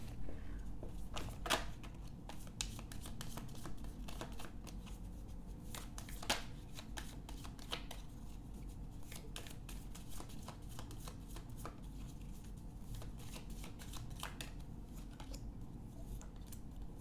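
Angel oracle cards being shuffled by hand, a steady papery riffle and slide with sharp card snaps scattered throughout, close and fairly quiet over a low room hum, with no talking.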